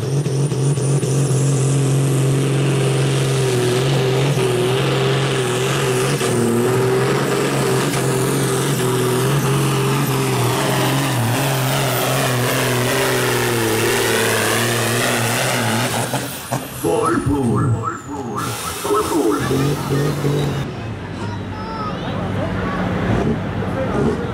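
An old 7-litre Hercules pro-stock tractor engine at a tractor pull roars loud and close, holding a steady high rev before surging and dropping, with an announcer's voice over the crowd.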